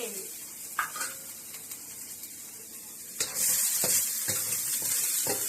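Shrimp and pork are stir-fried for Thai rice soup: a quieter clattering and stirring that jumps halfway through into a loud, sustained sizzle with occasional scrapes against the pan.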